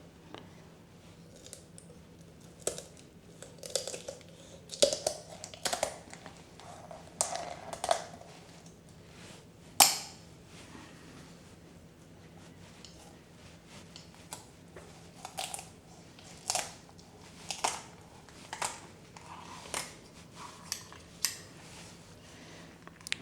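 Heavy duty kitchen scissors snip through raw chicken while spatchcocking it for the barbecue, a series of sharp close crunching cuts in irregular bursts with quiet pauses between, no talk.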